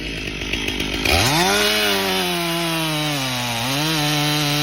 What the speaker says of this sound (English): In the silent forest, the chainsaw screams, shattering the stillness with raw power.